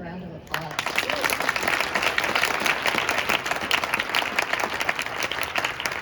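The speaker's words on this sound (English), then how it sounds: "Let's give them another round of applause." A brief voice gives way to a roomful of people applauding the speakers at an OCD awareness event, dense sustained clapping that stays strong to the end.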